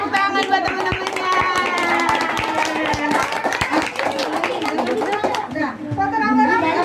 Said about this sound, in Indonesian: tepuk tangan buat teman-temannya.